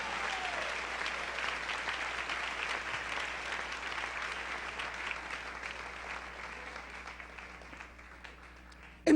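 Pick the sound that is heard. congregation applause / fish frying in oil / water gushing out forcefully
congregation applause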